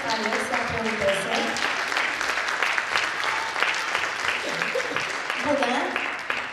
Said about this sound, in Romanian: Hai să o primim cu drag și cu multe, multe aplauze pe Alexia Pontese